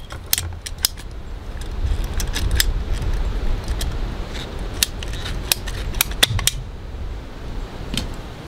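Scissors or cutters snipping plastic tubing for a hanging rabbit cage watering line, a series of sharp close clicks and snaps scattered over low handling rustle.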